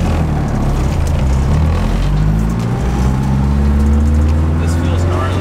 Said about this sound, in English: Oh, you can hear the trans whine.